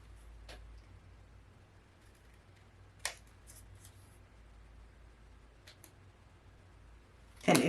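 Scissors trim paper corners for a Stamperia Garden of Promises mini album, giving a few quiet, isolated snips spaced apart, with a louder snip close at the end.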